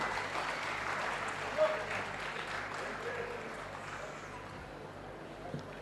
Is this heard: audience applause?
yes